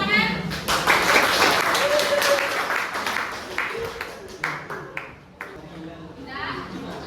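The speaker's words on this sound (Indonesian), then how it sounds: "Sekali lagi tepuk tangan" Classroom students clap together at a teacher's request, a burst of applause that thins into scattered individual claps, with voices and chatter mixed in.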